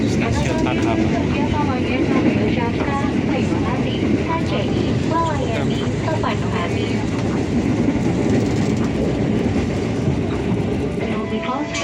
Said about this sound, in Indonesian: kereta akan segera diberangkatkan